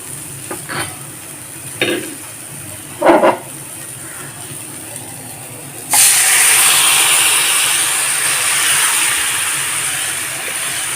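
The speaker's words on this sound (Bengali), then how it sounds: "এখন দিয়ে দেব সামান্য পরিমাণ জল" Water poured into a hot pan of bitter gourd curry spiced with salt, turmeric and chili powder bursts into a loud, steady sizzle and hiss that lasts several seconds, following a few soft stirring scrapes.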